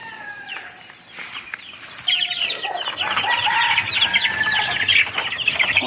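A hen clucks repeatedly up close, a few short calls at first, then a busier run of throaty clucks with faint birdsong behind.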